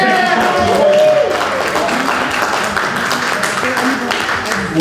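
Assembly audience at a people's power gathering in Baltimore giving a round of applause, sustained close clapping from many hands with some cheering voices and a speaker's voice faintly over it.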